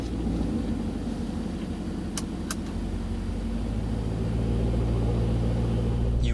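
A Brabus 900 GLE Coupe based on the GLE63 S, its engine set to Sport Plus, gives a deep steady rumble heard from inside the cabin, low and continuous, with two brief sharp clicks partway through.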